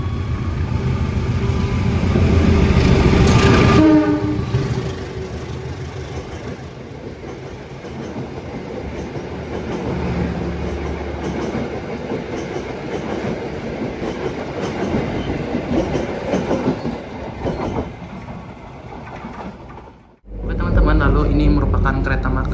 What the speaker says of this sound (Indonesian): kita di sini akan disilang oleh suatu kereta nih